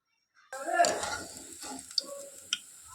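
Fried chira (flattened rice) snacks with vegetables lifted from hot oil with a slotted spoon, a soft sizzle and scraping clinks from the pan, plus a couple of sharp metallic taps near the end.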